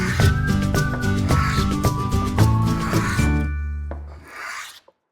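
A sanding block rubs back and forth over a planed wood plank being hollowed, in quick, raspy strokes, close up, with a low hum underneath that fades out at the end.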